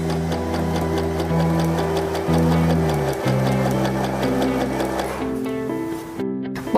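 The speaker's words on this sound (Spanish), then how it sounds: "Estiramos y cosemos." Janome 311 sewing machine stitching stretched elastic onto fabric, a loud, close, steady rapid needle chatter running continuously for several seconds before stopping abruptly near the end, with background music beneath.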